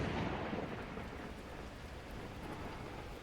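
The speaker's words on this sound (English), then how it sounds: "At that moment, the heavens opened up, unleashing torrential rain." Torrential rain pours steadily with a low thunder rumble in the Beacon Pines video game, a dense continuous wash that is loudest at the start and stays even throughout, with no voices.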